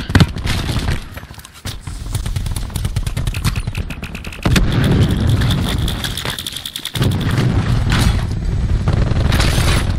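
Loud, rapid gunfire in a Blackout-mode video game shooter: dense automatic bursts and single shots crackle almost nonstop, with short gaps between volleys.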